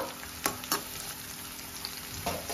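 Onions frying in a pan for a Hyderabadi chicken dish, a steady quiet sizzle with a few sharper stirring scrapes, close and alone without voices.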